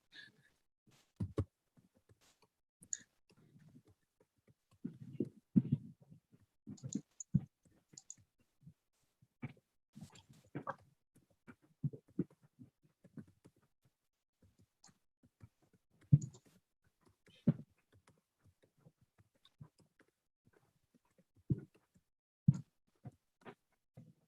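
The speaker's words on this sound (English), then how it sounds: "I will type some more text." Computer keyboard typing, quiet and intermittent, with scattered clicking keystrokes in short bursts separated by pauses, no voices.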